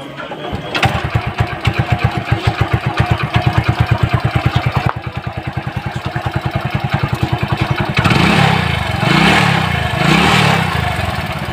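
A motorcycle engine catches after a kick start and settles into a fast, even putter, a loud close chug that thickens into a heavier, rougher throb near the end.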